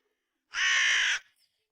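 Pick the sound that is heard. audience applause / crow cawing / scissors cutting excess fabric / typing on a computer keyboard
crow cawing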